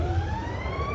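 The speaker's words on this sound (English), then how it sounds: "The sirens you hear, or you're going to hear, are to warn the people to evacuate the city as the invaders approach." Air raid sirens wail over a city as a warning to evacuate, in a radio drama. A steady rising tone sounds through a low rumble of background noise.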